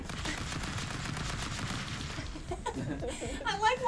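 Rapid bursts of gunfire in the game Stick Fight, a dense clattering volley fading toward the end as people laugh and talk over it.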